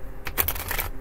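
A deck of tarot cards is shuffled close by in a quick flurry of crisp, rapid riffling clicks lasting under a second.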